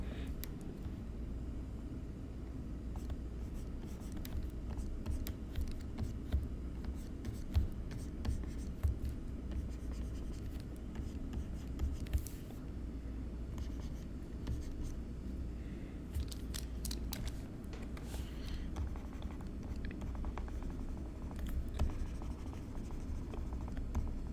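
Pencil drawing animation on paper, a close, dry scratching and scraping of graphite in repeated strokes with short pauses, steady over about twenty-four seconds against a quiet room hiss.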